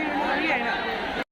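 Dense chatter from a large crowd of devotees packed into a temple, a steady continuous murmur of many overlapping voices with no single speaker standing out, cutting off abruptly after about a second.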